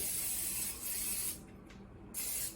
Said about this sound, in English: give it a spray or a grease